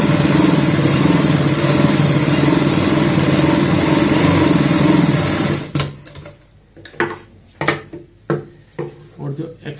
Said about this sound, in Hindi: हम इस साइड में भी यहाँ पे सिलाई लगाएंगे।